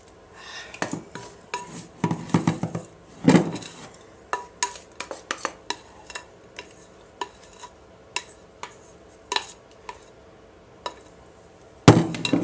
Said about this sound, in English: Spread it around so that it fills the whole tin.